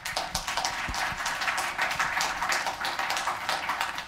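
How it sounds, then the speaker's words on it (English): An audience at a tech conference talk breaks into applause for a speaker, a dense, continuous patter of many hands clapping at moderate loudness for about four seconds. "Round of applause, please"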